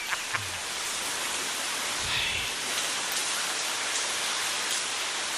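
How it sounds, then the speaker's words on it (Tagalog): Heavy rain pours down in a steady, dense hiss that holds evenly throughout, with a faint low thump or two underneath and no voices. "kakusog sa ulan"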